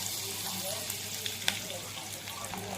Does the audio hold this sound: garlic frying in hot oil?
yes